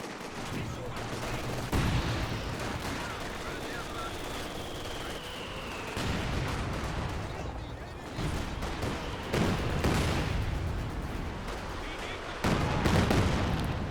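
In a real-time strategy video game, gunfire and artillery sound out as repeated crackling bursts and heavy booms, with shouted in-game voices over the shooting.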